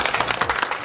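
Group applause in a party office meeting, welcoming a visiting observer; a steady, dense patter of many hands clapping together, fairly close and even throughout the short burst.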